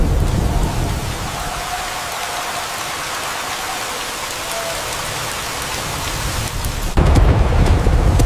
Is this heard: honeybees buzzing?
no